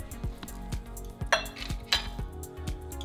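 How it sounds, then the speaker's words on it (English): A metal serving spoon clinks against a plate while dishing up sweet potatoes at a Christmas dinner, two or three bright clinks among soft low knocks and handling noise, with no talk. "let me use that spoon because I want some potatoes here"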